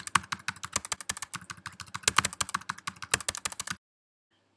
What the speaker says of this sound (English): So I can try to type in a zeros and ones.